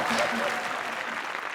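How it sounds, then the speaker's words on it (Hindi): Studio audience at a comedy show applauding after a dance performance, a short burst of dense, steady clapping with faint voices mixed in. "इनके लिए जोरदार तालियां"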